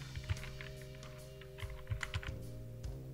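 Computer keyboard typing during font work in Illustrator, a scatter of quiet clicks and brief bursts of keystrokes with pauses between, close and soft over a steady low electrical hum.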